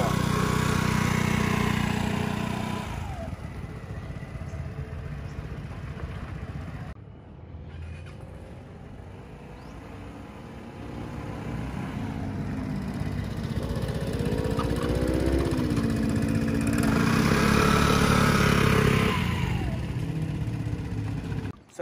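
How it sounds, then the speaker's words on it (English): A motor scooter's engine pulls away from a stop and keeps riding in a straight line, giving a continuous buzzing drone that dips briefly partway through and then rises again with throttle. "so my hand is on the brake, a little bit of engine power, I release the brake"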